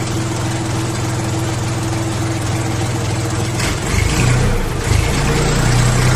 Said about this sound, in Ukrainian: щоб ви почули, як працює двигун на оборотах